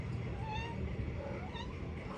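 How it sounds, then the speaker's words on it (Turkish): A cat meows several times at moderate distance, drawn-out plaintive calls over a noisy outdoor background with faint murmuring, in the lakeside village of Gölyazı. "Kedi geldi."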